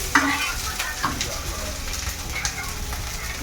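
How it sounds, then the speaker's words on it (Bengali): Parotta frying on a hot pan in a busy restaurant kitchen, a steady close sizzle with stirring scrapes and a few sharp clinks, no talk over it. "এই যে রাইস ফ্রাই হবে, পরোটাও ভাজা চলছে।"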